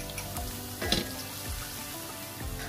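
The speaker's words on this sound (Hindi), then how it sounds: "पैन में आप 3 से 4 चम्मच आप ऑयल डालेंगे, उसके बाद आप 1 चम्मच लहसुन, 1 चम्मच अदरक और 4 से 5 हरी मिर्चें" Garlic, ginger, green chilies and mustard seeds sizzle in oil in a pan for a yogurt chicken curry, a soft steady hiss with a few louder spatters and clinks, recorded close and fairly faint.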